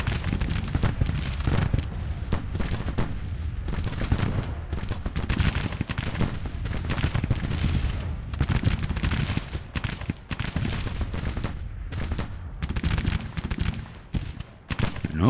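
Civil War battle gunfire in the strategy game Grand Tactician aimed at a cavalry brigade, dense crackling musket volleys and booming shots in a constant rolling barrage, loud and unbroken.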